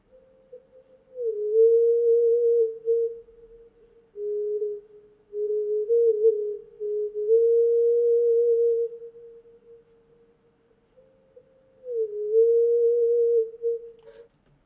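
A thin, pure ringing tone, a flute's resonant frequency isolated by dynamic EQ, hovers at one pitch, cutting in and out in uneven stretches with brief gliding dips between, alone and fairly quiet.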